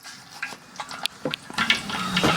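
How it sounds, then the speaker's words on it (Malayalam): Mustard seeds hit hot oil in a pan over a wood-fired stove while making chicken curry, giving scattered pops and crackles that grow into a busier sizzle toward the end, close and fairly loud. "അപ്പൊ ഞങ്ങൾ നമ്മളെ കടുവൊക്കെ എല്ലാം പൊട്ടി തിന്നിട്ടുണ്ട്."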